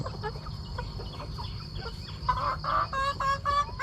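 A flock of chickens clucks continuously at a buffet-style feeding spot, with steady overlapping clucks and a few louder, sharper calls near the end over a low rumbling background, and no one speaking.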